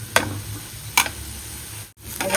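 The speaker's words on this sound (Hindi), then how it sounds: "चलो इसको अच्छा भून लेके थोड़ी देर, इसके अंदर अंडा डाल दे" An egg for an omelette or egg bhurji fries in a pan with a steady sizzling hiss, while a spoon gives a few sharp scraping stirs; close and fairly loud, no talk.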